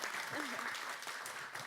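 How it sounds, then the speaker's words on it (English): Audience applause fills a church youth service as a steady, dense wash of clapping that stays loud and even throughout, with a voice speaking over it. "Round of applause for volunteering."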